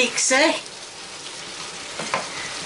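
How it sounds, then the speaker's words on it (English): Potatoes soaking in water with garlic being stirred in a pot, a wet swishing and sloshing close up, briefly overlapped by a voice at the start. "Now we're going to mix it around, give it a good mixy."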